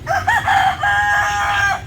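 Laying hens clucking and calling close by, a loud continuous stretch of chicken vocalizing with no talk.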